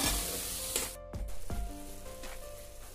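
Chopped tomatoes sizzling as they go into a pan of fried onions for a dhaba-style black masoor dal, with a steady frying hiss broken by a short clattering drop, then continuing close and loud with no voices.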